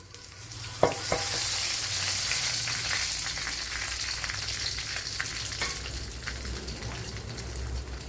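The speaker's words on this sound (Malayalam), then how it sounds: "ഇപ്പോഴും ഓയിലൊക്കെ ഇവിടെ ചൂടായിട്ടുണ്ട്. അതിലേക്ക് തക്കോലം, 3 ഏലക്ക, 1 ടീസ്പൂൺ പെരുംജീരകം, അതുപോലെ ബേ ലീഫ്, പട്ട ഇത്ര ഇട്ട് കൊടുക്കാം." Star anise, three cardamom pods, fennel seeds, bay leaf and cinnamon hit hot oil for prawn biryani, crackling in a steady close sizzle with a brief sharper burst near the start.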